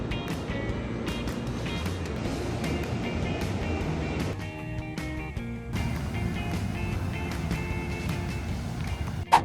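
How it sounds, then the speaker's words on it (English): Ocean waves rolling and breaking at Playa Carizal point in El Salvador, a steady loud broadband wash of surf that fills the whole span, with a brief sharper burst near the end. "this is like the point where they get the nice, really big waves in the morning"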